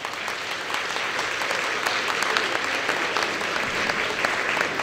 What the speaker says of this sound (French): et qui mérite nos applaudissements.